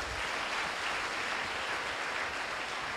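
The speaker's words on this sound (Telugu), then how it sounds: "అందరూ కూడా 2 చేతులు పైకెత్తి చప్పట్లు కొట్టి" A church congregation at an anointing-oil worship service in Ongole claps with hands raised, giving a steady, even wash of crowd applause that holds at one level for the whole stretch with no pauses.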